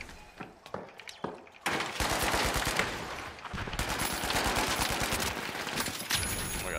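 Rapid automatic gunfire in the video game The Finals: a few scattered shots at first, then sustained bursts of fast, dense firing that continue loudly to the end, with no voice heard over it.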